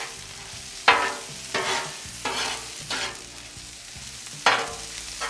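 Frozen peas being stirred into steak fried rice in a hot pan, with four or five distinct scraping stirs over a background sizzle, close and fairly loud, no voices.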